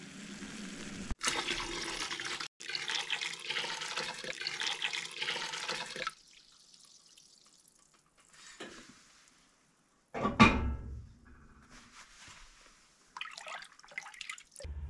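Water rushes steadily from a shower in a small cabin, stopping and starting, with drips and a later louder splash before the flow resumes briefly.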